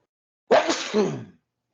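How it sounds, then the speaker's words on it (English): A single sharp sneeze, close and fairly loud, with a quick intake followed by the burst, then silence. "I think I'm going to sneeze."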